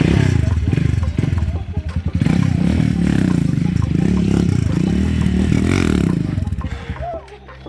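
Motorcycle during wheelie practice in Jamaica, a loud close engine with rattling clatter and scraping against the ground, while people talk over it.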